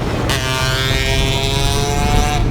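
A stock Vespa scooter engine revs hard and loud close by, a sustained buzzing drone with a rising pitch, heard alone with some wind buffeting.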